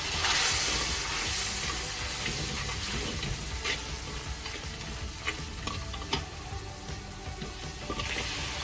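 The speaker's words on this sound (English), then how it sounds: "I like to put a little bit of water just so that the chili powder doesn't burn." Water hits a hot pan of chili powder and sizzles loudly, then settles into a steady hiss and crackle of frying, with a few clinks of a utensil.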